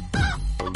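A hen clucks twice in short, loud, nearby bursts, with no speech.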